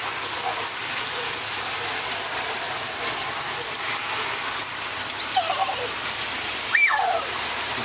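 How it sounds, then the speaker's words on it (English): Rainwater floods in during a rainstorm, making a continuous broadband wash of rushing water and rain. Faint voices and small splashes rise briefly near the end. "Look at all that water just flooding in here."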